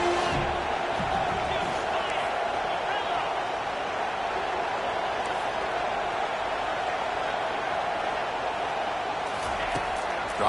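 A stadium crowd in a college football video game roars in a steady, dense wash of cheering that holds at an even level, with a commentator's voice talking over it.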